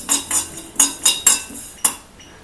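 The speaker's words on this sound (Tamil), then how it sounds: "இதை வந்து நல்லா வந்து ஒரு 2 மினிட்ஸ் நல்லா வறுத்துக்கோங்க." Black cumin (nigella) seeds dry-roasting in a pan, stirred with a metal utensil: about six sharp, clinking scrapes in an uneven rhythm, close and fairly loud, with quiet gaps between strokes.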